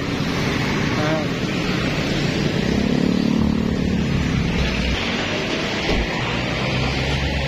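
Busy street traffic near a market in Valenzuela, with many motorcycles. Engines rumble constantly, with wind noise buffeting the microphone, and a person talks over it.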